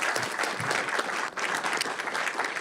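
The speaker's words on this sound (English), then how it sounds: "Let's give them a big round of applause." An audience at a county Board of Supervisors meeting claps steadily and loudly throughout, a thick wash of many hands with no break.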